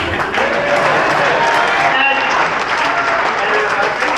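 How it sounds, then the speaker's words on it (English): Wedding reception guests applaud loudly in a dense, continuous wave of clapping, with crowd noise and voices mixed underneath as the cheering carries on. "Can we have a round of applause for Calvin,"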